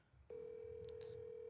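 A telephone call being placed begins with a brief quiet, then a single steady phone-line tone switches on and holds, faint, with a couple of short higher blips over it.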